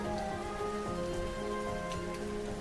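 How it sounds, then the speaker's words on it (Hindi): Heavy rain pours down on a village, a dense, even hiss of drops hitting surfaces, loud and continuous with no voices. "इतनी बारिश मैंने अपने 70 सालों में नहीं देखी"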